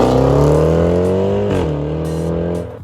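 Jaguar F-PACE SVR engine revving loudly up close, a deep harmonic growl that climbs, dips sharply, then settles and fades, with no voices over it.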